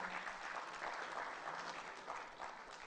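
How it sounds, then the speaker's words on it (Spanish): Audience applause at a web entrepreneurs' conference in 2017 as the next speaker takes the stage, a steady, dense wash of many hands clapping that carries on evenly for a few seconds without voices. "Un gran aplauso"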